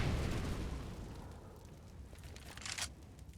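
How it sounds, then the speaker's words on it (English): Grenade explosions in a Counter-Strike match: a deep, muffled boom that rumbles away, then a brief second burst, fairly faint and distant under the broadcast. "Grenades being exchanged does afford them the chance to maybe push through and explode out of balcony"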